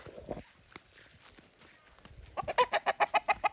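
Meat chickens foraging outdoors give soft scattered clucks, then a quick run of louder, rhythmic clucks near the end, close by over faint background rustling.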